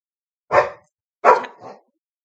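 A dog gives a few short barks close by: one single bark, then a quick double bark, with silence around them.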